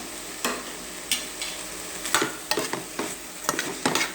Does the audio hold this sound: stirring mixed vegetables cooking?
yes